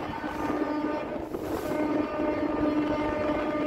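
A Howrah–Haldia galloping local train runs through a station without stopping on the Howrah–Kharagpur line, a steady, continuous rumble of wheels and carriages that stays close and loud throughout, with no voices.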